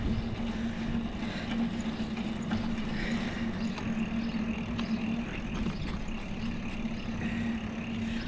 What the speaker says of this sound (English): I'm just pulling into my driveway now